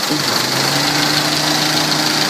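A Honda Civic's engine idles quietly and steadily close by, a smooth low hum with a faint higher whine and a little background noise.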